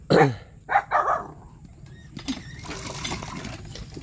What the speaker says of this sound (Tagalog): Tapang ng aso ah.